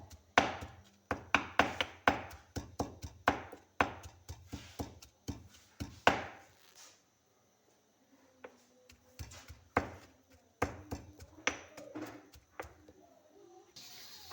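Garlic is chopped into a paste with a knife on a board, giving rapid, close, crisp knocks in quick bursts that pause briefly and then resume at a steady pace.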